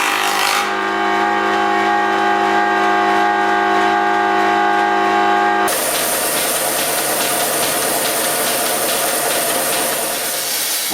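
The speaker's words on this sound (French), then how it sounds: "la pièce est rabotée" A loud machine whines steadily with strong tonal hum, then shifts abruptly to a harsh, broadband rasping roar as a power planer cuts a wooden wheel rim.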